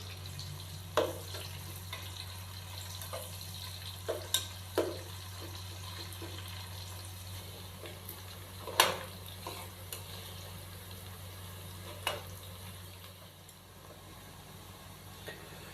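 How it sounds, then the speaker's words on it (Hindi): Finely chopped medium onions fry toward light brown for chicken matar pulao, a faint, steady sizzle with scattered stirring clicks and scrapes over a low hum. "प्याज को हम लाइट ब्राउन कर लेंगे।"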